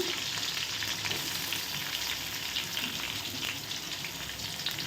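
Onions with garlic frying in a pan for a tomato thokku, a steady dense sizzle close up that runs without a break and with no talk.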